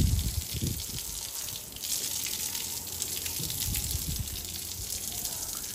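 Water sprayed from a hose onto a white Nukra horse during washing, a close, steady gushing splash that surges at the start and keeps running for several seconds, with no talking.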